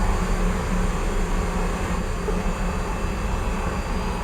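A Su-30 jet in the War Thunder flight simulator roaring through a takeoff, a steady loud broadband engine rush that holds constant throughout with no voices.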